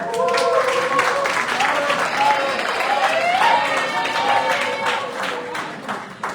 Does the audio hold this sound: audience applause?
yes